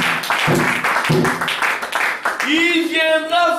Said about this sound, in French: Oui, acclamation pour le Seigneur.